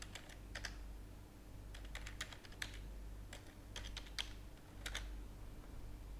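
Password keystrokes on a computer keyboard come in quick irregular clusters of light clicks, close and fairly quiet over a low steady background hum, with no one talking.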